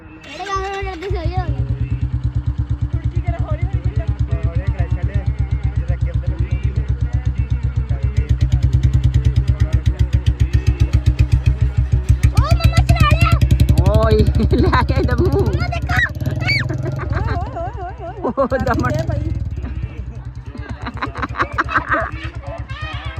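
A loud Royal Enfield Bullet motorcycle engine runs steadily up close, revving slightly midway, while people talk over it toward the end.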